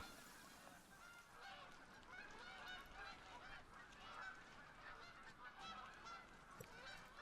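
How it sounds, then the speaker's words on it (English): Canada geese honking in a hunting game, a flock calling repeatedly at a moderate distance over a soft outdoor ambience, with no talk. "I hear honking. So I guess maybe there are Canada geese on the map."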